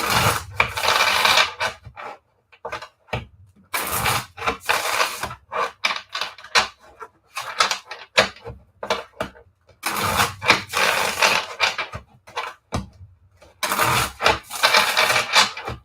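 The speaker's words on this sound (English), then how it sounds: "now I'm going to shuffle the cards" Tarot cards are shuffled in quick, crisp riffling bursts separated by short pauses, close and fairly loud, repeating several times with no talking.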